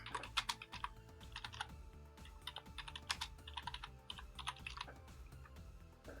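Rapid typing on a computer keyboard, crisp clustered keystrokes in quick irregular bursts, close and fairly quiet with no talk over it.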